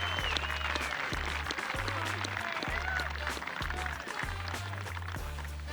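A golf gallery at the Australian Open applauds Adam Scott's long putt over a ridge, sustained clapping and cheering throughout with a commentator's voice faintly over it.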